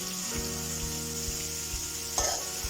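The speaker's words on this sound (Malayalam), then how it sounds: "നന്നായിട്ടൊന്ന് ഇളക്കി കൊടുക്കാം" Chicken and tapioca curry sizzling in coconut oil while being stirred, a steady close frying hiss with a brief scraping stir near the end.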